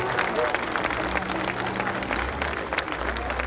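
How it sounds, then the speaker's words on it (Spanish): A crowd at a festival applauds the escaramuza charra team Sangre Charra, steady clapping with some cheering at moderate distance, while an announcer's amplified voice continues over it. "¡Venga el aplauso!"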